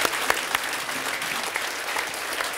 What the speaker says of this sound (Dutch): Mijn applaus heb je.